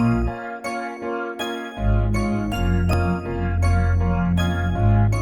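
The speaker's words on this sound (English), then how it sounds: "It's the Prids sidechain bass." A Nexus Prids sidechain bass synth pumps low and loud within a full trap mix of bright bell-like melody and rhythmic hits, entering after a brief sparse opening, for a song.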